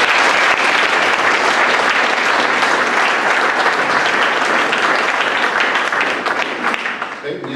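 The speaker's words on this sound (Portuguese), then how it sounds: "ao Sr. Fernando Ribeiro de Pedro Sá, quem peço uma grande salva de palmas." An audience at a tribute ceremony in Portugal breaks into loud, sustained applause that continues for several seconds and fades slightly at the end.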